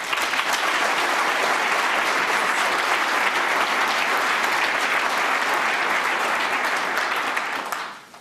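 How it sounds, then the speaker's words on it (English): A conference audience applauds a speaker with steady, dense clapping that holds loud and even for several seconds before fading out abruptly, heard close with no voices. "Please give him a huge round of applause"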